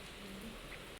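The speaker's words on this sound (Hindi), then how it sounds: "और बारिश हो रही है पूरी तेज" A steady, dense hiss of heavy rain pours continuously on a surface, then cuts off abruptly.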